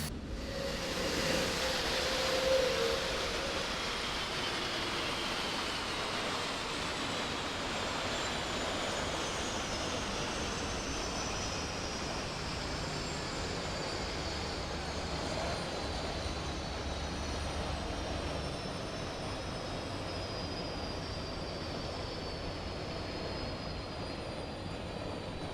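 Airbus A400M turboprop engines winding down after being shut off on a taxiway in Microsoft Flight Simulator 2024, a broad steady engine roar with a slowly falling whine that fades gradually over the whole stretch.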